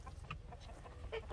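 Farm chickens cluck in short, soft bursts at moderate distance, several quick clucks in irregular rhythm over a low rumbling background.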